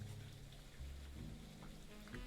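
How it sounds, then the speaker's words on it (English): Rainfall ambience from the video game The Roottrees are Dead: a constant wash of rain with a soft low rumble and occasional drip accents, holding steady throughout with no talking. "that rain, while cool, is just a little loud"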